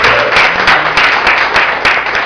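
Church congregation clapping together in praise, loud, close rhythmic hand claps in a steady repeating beat for a couple of seconds.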